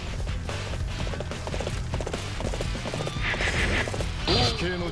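Horse hooves clip-clop at a gallop and a neigh rings out among game battle sounds in Dynasty Warriors 8 Empires, with a player talking over it.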